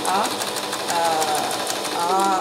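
A sewing machine stitches fabric in a steady fast whir of needle strokes, close and fairly loud, while someone talks over it throughout.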